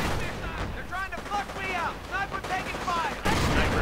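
Rockets and gunfire erupt in a real-time strategy war video game, with a continuous rumble of shots and blasts. A commentator speaks over the barrage.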